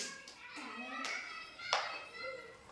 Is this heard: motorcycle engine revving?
no